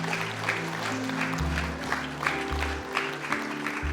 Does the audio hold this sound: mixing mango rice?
no